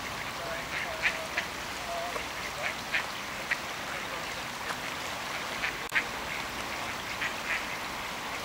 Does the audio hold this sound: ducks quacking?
yes